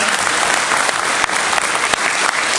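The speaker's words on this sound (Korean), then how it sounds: "박수하겠습니다." A church congregation at a revival-style gathering in a hotel in Gumi claps loudly together. The dense, continuous applause fills the whole short stretch with no speech over it.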